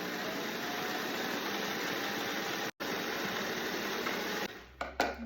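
Sewing machine stitching quilt pieces together for a pinwheel quilt, a steady close hum for about four and a half seconds with one very brief break, then stopping with a few soft clicks.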